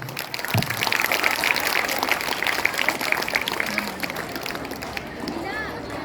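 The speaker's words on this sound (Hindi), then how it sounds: "कृपया जोरदार ताली से इस समारोह का शुभारंभ करें" An audience claps loudly and steadily for several seconds to open a school ceremony at a science exhibition and children's fair, then the clapping tapers off while a voice speaks over it.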